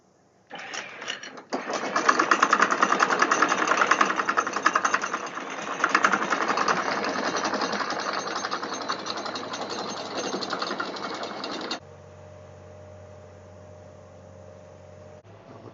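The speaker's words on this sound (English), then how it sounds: "We have to start, or at least energise the port engine for the anchor winch to work." A sailboat's port engine starts and runs with a steady, buzzing mechanical drone, loud and close, then cuts to a quieter low hum.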